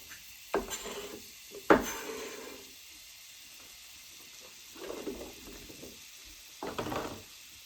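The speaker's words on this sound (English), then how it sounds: "We're going to add the rest of our butter into our pan. We're going to let that melt in." Butter melting in a pan, giving a soft continuous sizzle broken by a few sharp clinks and scrapes of a utensil against the cookware.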